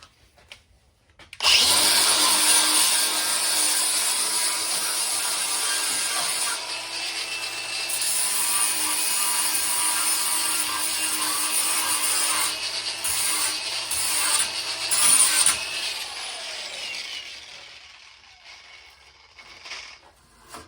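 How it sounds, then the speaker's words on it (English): Rust is sanded and ground off the exhaust of a Lincoln Ranger GXT 250 welder-generator with a power tool. There is a harsh, loud, continuous abrasive grinding for about fifteen seconds with rough scraping variations, then it winds down into near quiet. "Just gonna sand off, grind down some of this rust."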